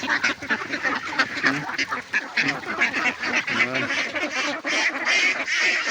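Pet ducks fed rice bran and banana, a flock quacking loudly and continuously close by, with overlapping raspy calls throughout.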